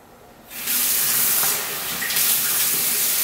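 A kitchen or bathroom tap turns on and lukewarm water pours out to wet a microfiber cloth, a sudden strong rushing stream that stays loud and steady after a brief quiet start.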